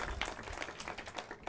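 A crowd applauds at a ribbon cutting ceremony in St. Pete, Florida: dense, steady clapping that carries on evenly without a break.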